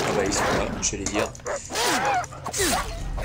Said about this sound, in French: Donc c'est des chiens enragés, je crois.